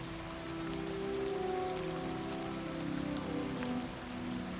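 Continuous rainfall in Oblivion Remastered, a close, hissing wash of drops on surfaces that swells slightly midway, with soft sustained background tones underneath and no talking.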